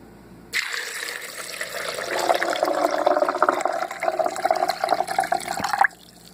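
Water from garbanzo beans soaked for 24 hours pours and drains out in a close, splashing gush lasting about five seconds before cutting off abruptly.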